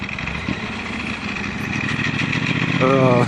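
A new 2018 Ducati Panigale V4 Speciale motorcycle engine chugs steadily while riding uphill, a continuous mid-pitched rumble that swells slightly louder toward the end, with a person's voice faintly over it.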